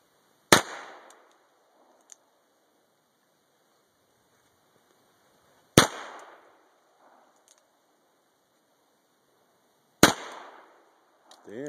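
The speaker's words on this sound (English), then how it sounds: "So Heidi, you say you're a better shot than most of the hicks?" Three sharp gunshots in a shooting demonstration, each a loud close crack with a brief decaying tail, spaced several seconds apart in otherwise quiet surroundings.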